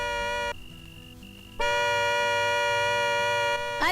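A loud, sustained car horn blares in a long steady tone, stops briefly, then returns even louder and holds for about two seconds, with music or background noise beneath.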